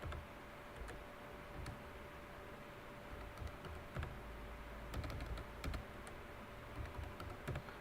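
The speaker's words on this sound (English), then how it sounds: "I can now type it here." Typing on a computer keyboard, a steady run of quiet key clicks at close range with a few sharper taps, no talking over it, beneath a constant low hum.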